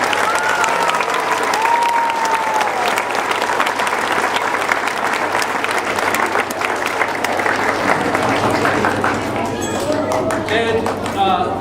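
An audience applauds at a school winter recital for a 5th grade team, with steady, dense clapping throughout, cheers and voices mixed in.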